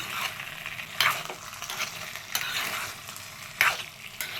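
Cabbage manchurian cooking in a pan, a close sizzle under repeated stirring, with a few sharp spatula scrapes standing out from the frying hiss.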